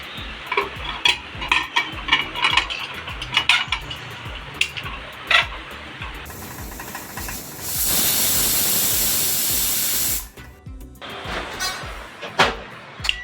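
A pressure cooker of lentil dal on a home kitchen stove lets out a loud, steady blast of hissing steam for a couple of seconds. Clattering and stirring noises come before and after it.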